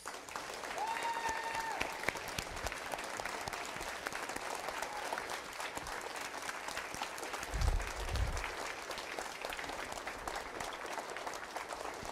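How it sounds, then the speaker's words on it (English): An audience at a veterans program event applauds steadily for about twelve seconds, with many hands clapping in a dense, even wash that swells briefly near the end. "Let's give all these men and women another round of applause."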